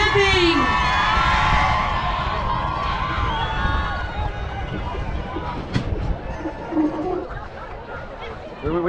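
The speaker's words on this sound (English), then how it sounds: "And a round of applause now for our marching band" A homecoming crowd cheers, whoops and shouts for a high school marching band, loudest at first and then settling into scattered cheers and chatter.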